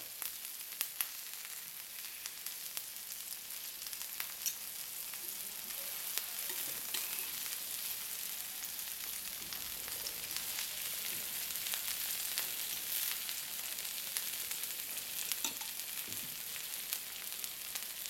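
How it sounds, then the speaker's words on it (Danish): Beef steak sizzles and fries steadily on a Bornholm granite plate, a continuous crackling hiss with scattered pops, close and even throughout, with no talking. "Og man kan stege alle former for kød."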